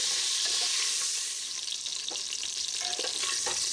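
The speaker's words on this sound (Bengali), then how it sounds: "এইভাবেই আমি নাড়াচাড়া করে ভেজে নিচ্ছি দশ থেকে বারো মিনিট" Chicken pieces sizzle steadily in a nonstick pressure cooker while being stirred, a close, continuous hiss of frying with soft scraping and shifting throughout.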